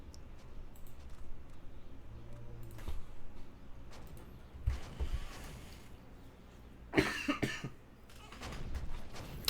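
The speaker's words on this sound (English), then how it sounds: "I apologize for the coughing every now and again" A few short coughs from a man with a slight cold break through a quiet background with faint clicks and shuffling while he plays a computer game; one harsher cough stands out near the end.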